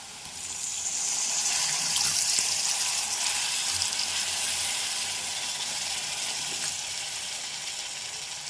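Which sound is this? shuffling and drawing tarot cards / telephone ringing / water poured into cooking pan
water poured into cooking pan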